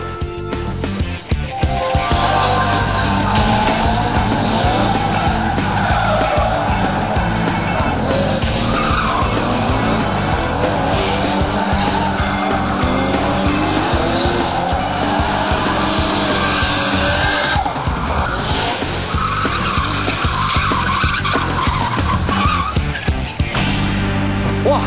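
Race car tires skid and squeal at a racing practice track in Longtan, Taoyuan, loud and nearly continuous with engine roar throughout, with faint voices in the background.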